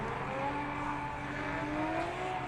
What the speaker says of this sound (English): There is Kevin Lawrence warming up his Hankook tires.